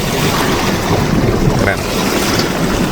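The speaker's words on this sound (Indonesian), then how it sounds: "Nah itu motornya pakai motor listrik ya guys, nggak pakai bahan bakar lagi." Electric motor boat on a river in Guilin, China, heard as a loud, steady rush of water and wind noise that continues without a break.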